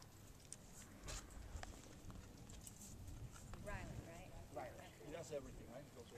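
Horses' hooves clip-clop faintly during a ranch cattle drive, a soft, irregular patter heard at a distance amid low outdoor background noise, with brief voice-like sounds near the end.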